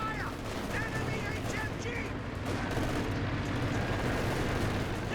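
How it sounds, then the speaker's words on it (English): Machine-gun fire rattles steadily in the Company of Heroes 2 video game, a dense continuous wash of gunfire and battle noise heard under a commentator's talk. "MG's firing away gloriously."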